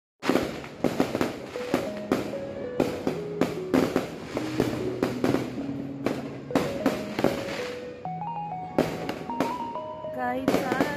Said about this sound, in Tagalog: Putok lang yun, don't worry.